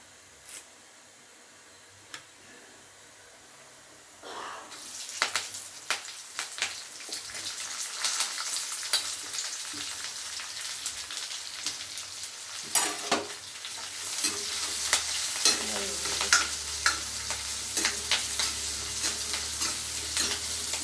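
Sliced onions sautéing with clove, cinnamon, fennel seeds and curry leaves for a roasted-and-ground potato masala. Near-silence opens, then a loud crackling sizzle begins, with repeated scraping stirs that grow busier toward the end.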